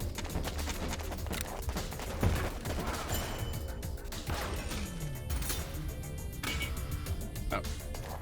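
Rapid grenade shots and explosions crackle through a Warpips battle, a dense, steady barrage of bangs and thuds with sharp peaks, loud and continuous, with no talk.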